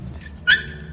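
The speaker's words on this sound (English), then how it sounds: "More dogs." A dog gives a single short, sharp bark on a residential street in Marvila, Lisbon, fairly close, over quiet low background hum.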